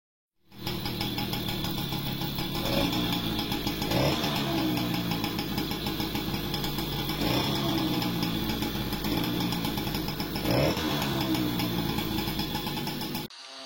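Peugeot GT10 moped with AliExpress parts, its small two-stroke engine running loud and close on a summer evening ride through a neighbourhood, a steady buzzing drone with a few brief revving swells.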